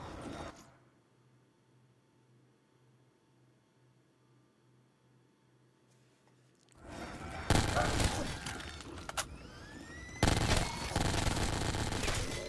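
Gunfire from a weapon with heavy recoil in Black Ops 3 Zombies on the Cove map, starting after a quiet stretch with bursts of loud shots and clatter filling the second half, while a player talks.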